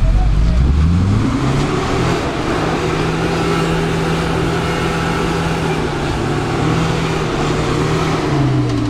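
A Niva or UAZ Patriot engine revs hard while stuck in snow on non-studded tyres, a steady loud drone holding near constant pitch for several seconds, with people shouting over it.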